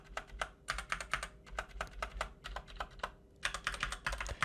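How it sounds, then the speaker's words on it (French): Enter key and other keys on a GG Champion's Bane mechanical keyboard with lubricated stabilizers, giving a muffled, soft clack; a steady run of close, quick keystrokes with short pauses, no talking. "je vais vous faire écouter Enter, c'est que les stabilisateurs sont lubrifiés, donc ça fait un bruit beaucoup plus feutré."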